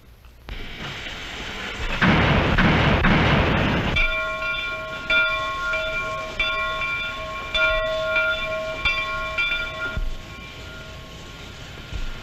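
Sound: locomotive train getting going

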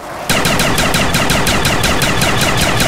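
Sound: Spaz 24 shotgun firing, video game Kino der Toten

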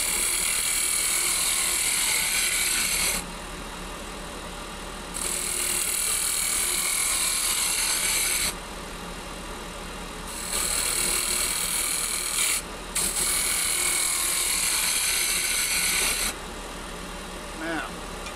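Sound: lathe spindle turning a wooden chess pawn

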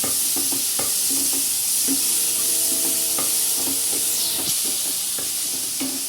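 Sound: stirring badiyan in a sizzling pan

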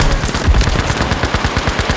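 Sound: gunfire from Battlefield V video game

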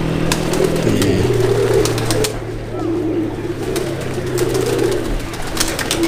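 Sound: pigeons cooing

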